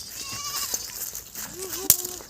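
Goats bleat in a village, with one wavering bleat rising and falling near the end over a busy background, and a voice speaking at the start.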